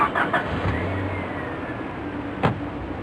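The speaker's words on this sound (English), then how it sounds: "Smooth sounding engine." A car engine idling smoothly at close range, a low steady hum with a couple of brief clicks and a knock near the end.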